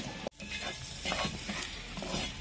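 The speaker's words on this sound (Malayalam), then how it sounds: "എന്നിട്ട് ഇത് നമ്മൾ ചെറുതായിട്ട് ലൈറ്റായിട്ട് ഒന്ന് ഇളക്കി കൊടുക്കാം" Green chillies and onions fry in a pan with curry leaves while a spoon stirs them, giving a steady close sizzle with scraping strokes and one brief sharp knock near the start.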